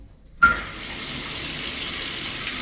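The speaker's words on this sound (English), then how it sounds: "when you cut the water on" A hotel bathroom faucet at a Days Inn in Morrow, GA is turned on after a brief silence, and water gushes with a sudden onset, then settles into a steady, close hiss of running water.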